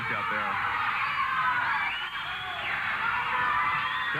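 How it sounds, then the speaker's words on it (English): A man's yelling rises out of a loud old-school wrestling crowd, his sustained shouts and whoops carrying above steady, dense crowd noise for several seconds. "Do you hear the guy in the crowd?"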